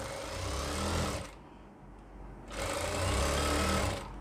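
A sewing machine stitches down the leg of a baby's trousers in two loud, fast-running bursts, separated by a short quiet pause.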